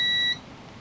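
Multimeter continuity check on a Power Jack Sun 300 grid-tie inverter repair, probes touched together, giving a steady high electronic beep for about a third of a second before cutting off to faint background hiss.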